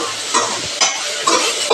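Black pepper and dried red chillies frying in spattering oil, a steady hissing sizzle with rhythmic bursts of stirring and crackle, loud and close.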